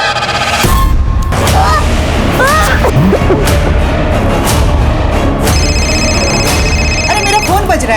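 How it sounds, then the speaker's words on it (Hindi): A telephone rings at a Holi gathering, its repeated electronic tones sounding amid festive background noise and voices, with a honking, goose-like squawk partway through. "अरे मेरा फोन बज रहा है"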